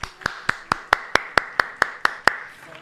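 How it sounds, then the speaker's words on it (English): An applause sound effect played on a live stream comes across as about ten crisp, evenly spaced single claps, close and bright, in a quick steady rhythm before stopping. "we get the applause behind me now"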